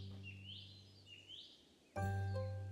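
Bobwhite quail call in the video game Tiny Glade: faint rising whistled notes repeat twice over a low steady hum, then a louder tonal game chime cuts in near the end.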